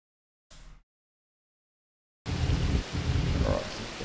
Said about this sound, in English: so definitely is raining